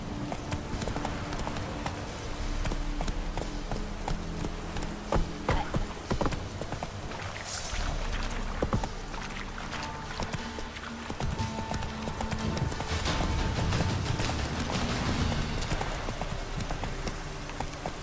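Roach the horse gallops in The Witcher 3, steady clip-clop hoofbeats running continuously at close range over a wash of ambient game sound.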